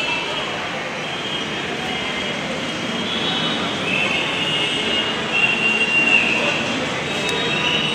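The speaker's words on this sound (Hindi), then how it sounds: "ट्रेन टर्मिनेट हेयर, मतलब ये ट्रांसपोर्ट नगर तक की ये ट्रेन फिलहाल चल रही है।" A Lucknow Metro train runs along the track near Transport Nagar, a loud, steady rolling rumble with a thin wheel squeal rising over it near the end.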